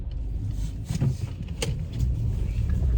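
A car is eased into a parking spot by a woman, the engine and tires giving a steady, close low rumble with a few brief mechanical clicks and bumps and no talking.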